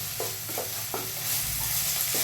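Onion and roasted peanuts fry in a pan for North Karnataka girmit, a steady sizzle broken by several scraping stirs of the spoon, close and moderately loud with no talking.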